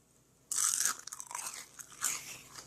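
Freeze-dried Thrive food, butternut squash, crunches sharply up close, starting abruptly after a quiet moment and continuing in a few brittle, crackling bursts with no talking.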